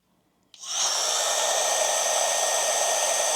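A heat gun switches on and blows a steady, loud rush of hot air to soften leftover glue on a cheap treadmill, starting abruptly after a brief silence and holding constant with no talking.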